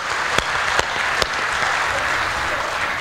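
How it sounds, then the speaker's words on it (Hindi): A live audience at a stand-up comedy show breaks into loud, dense applause that stays steady throughout, with a few sharper individual claps standing out near the start. "एक बार जोरदार तालियां आदरणीय गुरुवार के लिए बजा दियो"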